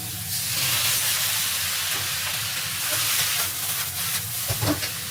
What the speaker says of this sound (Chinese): 沿着锅边倒入白醋